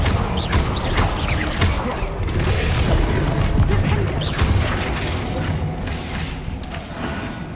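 Confringo spell explosions from Hogwarts Legacy, a steady churn of booming blasts and crackling magic effects, loud and dense throughout, with a voice talking over the combat.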